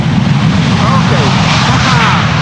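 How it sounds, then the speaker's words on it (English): An airliner engages its thrust reversers after touchdown at Schiphol, a loud, close engine roar with broadband rushing noise, while a voice talks over it. "After the nose wheel touched the ground, it did go for the reversers after all"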